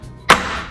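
A small hand chopper presses through a piece of fruit, giving one sharp, close chop that fades quickly into quiet.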